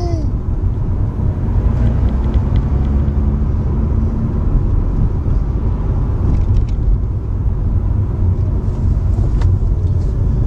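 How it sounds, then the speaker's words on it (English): A Mazda RX-8 being driven on the road, its steady engine and road rumble filling the cabin at a constant level, with faint higher whines and ticks over the drone. "It gave me a reason to get in the car and drive it."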